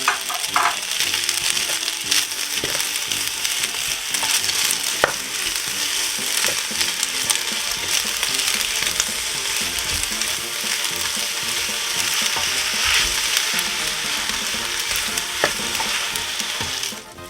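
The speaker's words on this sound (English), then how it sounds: "just add the farmer's cheese, the 8 ounces of farmer's cheese, and mix that in" Egg noodles and onions frying in a pan with farmer's cheese being stirred in produce a loud, constant sizzle with wet stirring and scraping throughout, close up and without talk.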